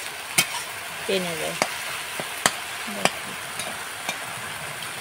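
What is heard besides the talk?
stirring hilsa fish head with taro leaves in a pan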